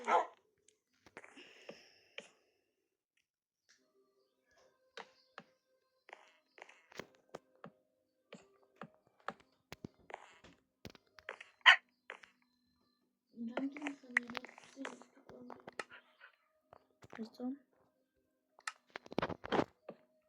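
A dog barks in scattered short bursts alongside a new puppy, with whimpering yips between sharper barks, fairly close, while people talk intermittently.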